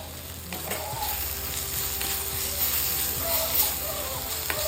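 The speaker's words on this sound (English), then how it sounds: "So here I am mixing everything well." Paneer chilli gravy is stirred in a hot pan with red chili sauce, soya sauce and tomato ketchup: a steady, loud sizzle of frying with scraping stir strokes running throughout.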